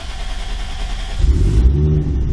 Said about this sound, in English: see if the car turns on